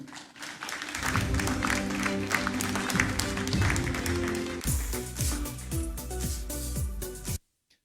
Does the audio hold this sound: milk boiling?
no